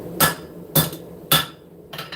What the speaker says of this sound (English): just hammer it right there